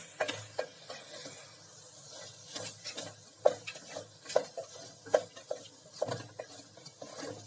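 Split Bengal gram dal being stirred in a pan with dried coriander powder, oil-free, giving a run of soft scraping strokes and occasional light spoon-on-metal clinks, close and quiet with no talking.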